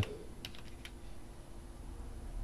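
Quiet, rapid keystrokes on a computer keyboard, a short burst of clicks early on and then faint taps over a low background hum.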